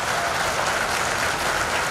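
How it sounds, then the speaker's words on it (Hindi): A large crowd at an Indian political gathering claps loudly and densely, a continuous roar of applause filling the whole moment. "यहां से बड़ी सादगी से जोर से ताली बजाओ"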